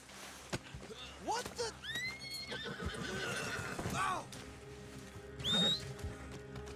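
Horse in Red Dead Online neighing and whinnying several times over a steady clip-clop of hooves, fairly close, with game ambience and some speech-like sounds underneath.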